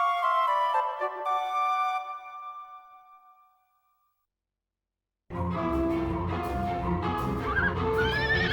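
A horse in a Dragon Quest VIII cutscene lets out a loud, drawn-out whinny that fades into a few seconds of silence, followed by a dense burst of other game sound.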